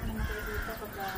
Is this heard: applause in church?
no